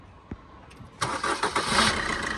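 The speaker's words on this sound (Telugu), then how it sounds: "సింగిల్ సెల్ఫ్లో బండి స్టార్ట్ అవుతుంది సార్" A 2017 Maruti Suzuki Vitara Brezza diesel engine cranks briefly and starts on the first try, then settles into a steady rumbling idle close by.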